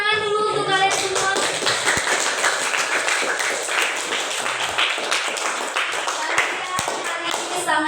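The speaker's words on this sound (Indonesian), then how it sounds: "Tepuk tangan dulu untuk kalian semua" Students in a school auditorium clap together in a sustained, dense round of applause that carries steadily through, with a teacher's voice heard briefly over the start.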